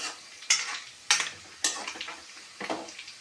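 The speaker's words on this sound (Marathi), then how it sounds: "आता आपण त्यामध्ये टोमॅटो टाकून देऊया" Tomatoes dropped into frying, rosy masala paste for stuffed brinjal, with four distinct stirring scrapes of a spoon against the pan over a continuous sizzle, close and clear, no talking.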